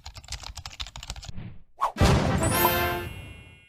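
Rapid clicking keystrokes on a Microsoft Wireless Ergonomic Keyboard 5000 run for over a second, followed by a sharp whoosh and a loud crash-like hit that rings out and slowly fades.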